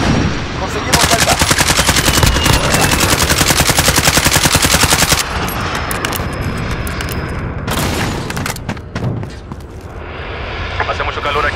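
The CR-56 AMAX assault rifle fires in a video game: loud, rapid automatic bursts, one long sustained burst and then shorter volleys, over a background rumble, with voices talking partway through.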